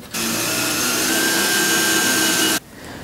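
A power drill bores into a wooden backpack panel to fit magnetic snaps, running in one steady, loud, continuous whir for about two and a half seconds before cutting off abruptly.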